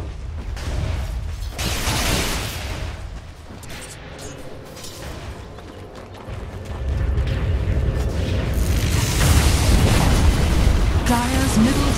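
Tower under attack and falling in a Dota 2 match, rumbling booms and crumbling mechanical noise that swell louder toward the end, with a faint chiming tone and game sound effects layered over it.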